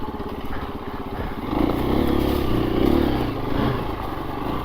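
A 2024 KTM 350 EXC-F dirt bike is ridden off-road on muddy ground, with a steady mid-pitched four-stroke engine drone close by that swells and revs slightly through the middle.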